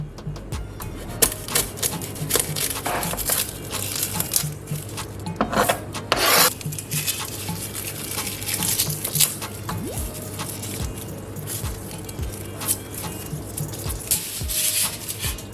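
A knife cuts the top off a head of garlic on a board, giving scattered crisp scraping and rubbing strokes, close by, with a denser burst of cutting partway through.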